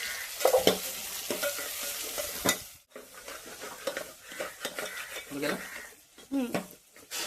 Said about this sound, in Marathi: मटणाला प्रॉपरली पलटवून घेऊया